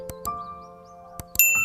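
A few soft clicks are followed by a bright, ringing bell ding that sustains at the end, clear and close.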